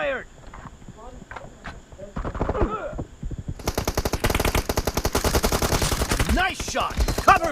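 M416 rifle fire in a PUBG team deathmatch: scattered shots, then a long, rapid automatic burst of evenly spaced rounds, with players talking over it.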